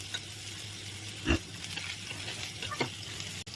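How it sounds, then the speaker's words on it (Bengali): Potato and pointed gourd pieces frying together in a pan; a soft, steady sizzle with a couple of brief stirring knocks. "আলু পটল এখন একসঙ্গে ভেজে নেবো"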